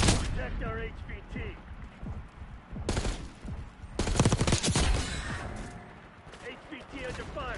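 Gunfire in Call of Duty Black Ops 6: loud bursts of rapid automatic fire and heavy shots, with game radio voices talking between and over the shooting.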